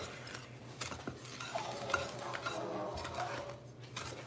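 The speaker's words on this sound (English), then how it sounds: "I'm gonna mix this together." Ingredients being mixed together in a bowl with a utensil, soft scraping and clinking strokes at a low, steady level with no talk.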